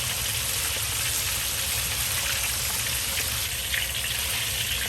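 Hot oil ladled repeatedly over a large whole fish deep-frying in a big wok for sweet and sour squirrel fish, a steady close hissing and gushing sizzle that runs without a break.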